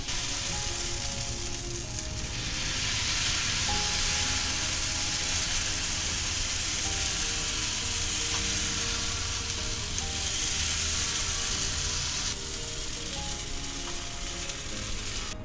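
Oats dosa batter sizzles steadily in oil on a hot tawa over a medium flame, a continuous hissing fry with faint crackles that holds nearly unchanged throughout.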